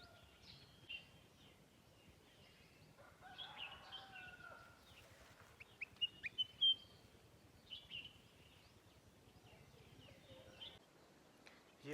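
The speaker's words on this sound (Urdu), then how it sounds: "یہ آپ کو ایک پرندے کی آواز سنائی دے رہی ہے۔" Small songbird singing outdoors, a faint series of high chirps and short trilled phrases repeated over about twelve seconds against a quiet background.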